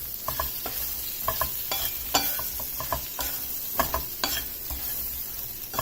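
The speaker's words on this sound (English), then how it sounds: "Now let's mix it up. so that turmeric and salt gets coated to all the pieces." Pointed gourd pieces tossed with turmeric and salt in a pan, giving a steady run of scraping, clattering stirs with soft sizzling beneath, close and fairly loud.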